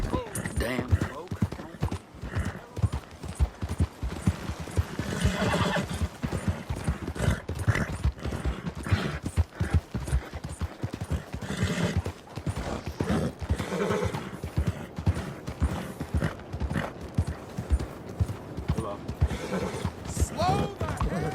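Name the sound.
horses neighing and hooves clip-clopping in video game Red Dead Redemption 2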